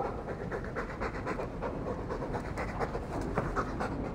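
In a Dragon Age 2 cutscene, a dog pants steadily with quick rhythmic breaths, moderately close and unbroken, over a faint background murmur.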